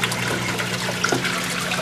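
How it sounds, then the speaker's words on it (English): An aquarium air bubbler from an old turtle tank aerating an ice fishing bait tank, giving a close, steady stream of burbling and trickling water with small pops. "This is just extra aeration here, just a bubbler from my old turtle tank."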